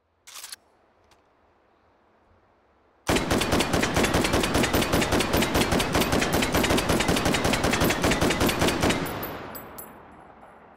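M14 battle rifle firing on full auto in the VR shooter Hot Dogs, Horseshoes & Hand Grenades, a single long run of rapid, evenly spaced sharp shots after a brief click and quiet gap, tailing off into fading echoes.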